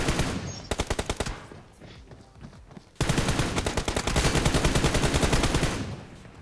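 Rapid automatic gunfire from a video game, loud and close, in two long bursts: a stuttering volley that thins out, a brief lull, then a denser, sustained stream of shots.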